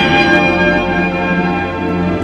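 Edmund Fitzgerald's brass ship's bell ringing at a 1995 memorial service, a sustained, resonant metallic tone with dense lingering overtones filling the whole stretch without any speech.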